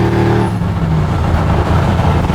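A 1967 Camaro restomod with a supercharged Wegner LSX 427 V8 drives along, its deep engine rumble heard from inside the car, steady and loud with a low droning tone that eases slightly as it rolls on.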